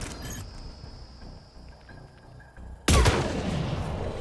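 A gunshot in Mass Effect Legendary Edition fires as a single sharp, loud blast after a quiet stretch of game ambience, followed by a decaying rumble and further gunfire.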